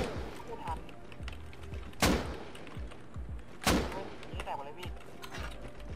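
Gunfire in the video game Rust: two sharp, loud shots ring out a couple of seconds apart over a scatter of softer thuds and mechanical clicks, with people talking over it.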